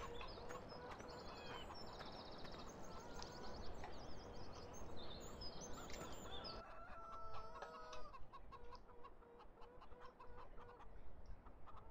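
Chickens clucking on a farm in Landwirtschafts-Simulator 17, several birds chattering steadily and fairly faintly over a constant rushing ambient bed, with no talking throughout.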